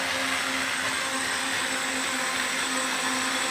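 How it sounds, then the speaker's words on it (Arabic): An electric grinder runs continuously at close range with a loud, steady high-pitched whine and motor hum that holds an even level throughout, with no talking. "بس هذا صوته مطحني. هذا مو خلاط."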